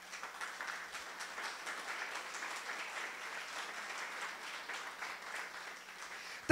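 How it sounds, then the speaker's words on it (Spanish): A church congregation applauds at a Spanish-language service, a soft, steady patter of many hands that stays fairly quiet and distant throughout. "Un aplauso a Jesucristo."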